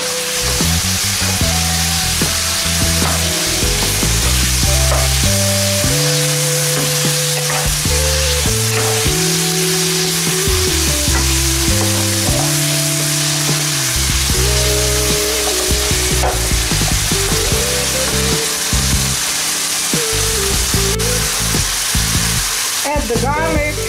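Stewed cabbage fries in a pan while it is stirred, with a constant loud sizzle and scraping stir strokes, all heard under background music.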